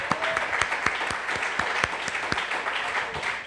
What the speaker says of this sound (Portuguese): vamos aplaudir o rei desimpedidamente